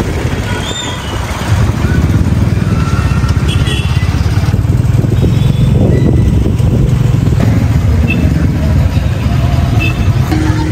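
Many Bullet motorcycles in a road rally rumble continuously at close range, a dense low engine drone with idling and revving that runs throughout, mixed with street noise and a crowd.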